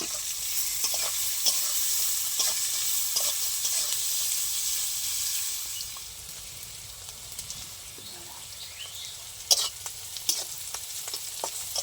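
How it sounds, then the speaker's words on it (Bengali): Onions frying in oil hiss steadily, easing to a softer sizzle midway, with scattered clicks and scrapes of stirring in the pan. "আমার পেঁয়াজগুলো ভালো করে ভাজা হয়ে গেছে।"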